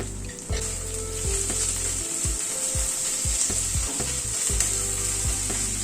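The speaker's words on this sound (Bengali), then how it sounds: "গুঁড়ো মশলাটা একটুখানি পেঁয়াজের সাথে, পেঁয়াজ আদা রসুনের সাথে একটুখানি কষিয়ে নিচ্ছি" Ground spices sizzling in a pan with onion, ginger and garlic over medium heat, a steady hiss of frying with repeated scraping and stirring knocks, close and continuous.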